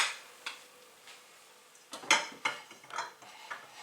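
Washing up at a kitchen sink, with scattered clinks and clatters of dishes and cutlery, irregular and close, including a louder knock midway and soft splashy rustling between.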